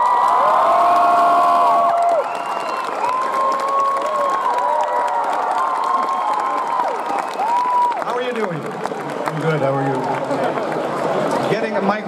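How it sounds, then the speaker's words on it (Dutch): A large comic convention crowd cheers, whoops and applauds loudly as a guest is welcomed on stage, with shouts and screams over dense clapping throughout. "Mag ik van jullie een gigantisch warm applaus voor Michael Gutlitz."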